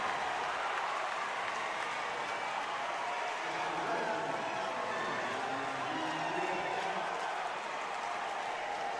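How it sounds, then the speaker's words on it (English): A high school basketball crowd of Blue Devil fans cheers and roars on their feet during a regional final, a dense, continuous wash of noise from a packed gym. "the crowd is feeling it here. The Blue Devil fans are on their feet."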